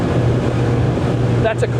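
A Parker Sorrento 100 motorboat runs at fast cruise around 4,200 to 4,300 rpm, making about 33 knots, with a loud steady engine drone mixed with wind rush and a short voice at the end.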